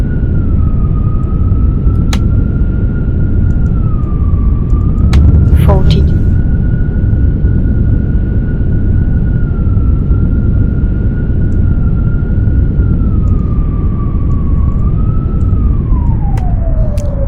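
An F-35B jet engine in the X-Plane 12 flight simulator during a vertical landing: a loud, continuous whine and roar that holds steady, then drops in pitch near the end.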